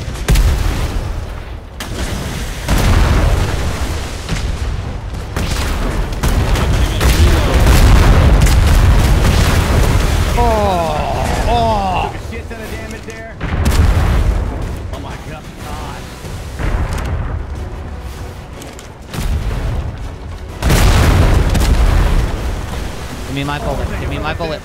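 Ship cannons fire in a naval fleet battle between galleons in the video game Atlas, a run of loud, heavy booms and blasts repeating through the scene while players talk over the gunfire.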